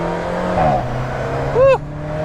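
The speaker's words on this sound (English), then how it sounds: "And listen to that turbo." Alfa Romeo 4C turbo engine accelerating on the road, a steady loud drone that climbs in pitch, with a brief louder rising whoosh near the end, heard alone.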